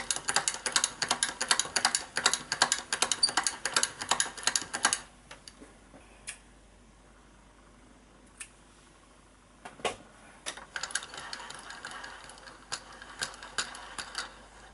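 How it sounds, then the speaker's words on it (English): A hand-cranked French knitting machine turning wool around a pipe cleaner, producing a dense run of rapid ratcheting clicks, then a pause with only a few isolated ticks, and then steady clicking again, close and alone. "I do a few more turns of the machine and then cut the wool"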